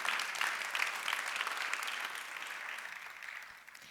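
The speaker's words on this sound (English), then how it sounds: "A round of applause for Camila and Øyvind." Audience applause at the Ocean Race Summit in Aarhus, a steady crowd clapping that fills the hall for a few seconds before tapering slightly, with no voices over it.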